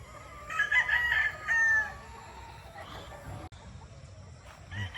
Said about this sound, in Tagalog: Daming manok mga bossing oh.